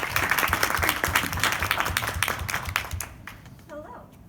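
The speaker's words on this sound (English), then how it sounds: "So please give a round of applause for Pollyanna." An audience in a lecture hall claps in a dense, steady burst that fades toward the end, followed by a brief trailing sound.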